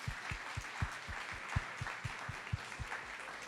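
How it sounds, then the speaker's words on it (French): Audience applause at the close of a retailers' panel discussion on current economic uncertainty: a steady wash of clapping with a regular run of soft low thumps, moderately distant and without talk. "Une bonne main d'applaudissements."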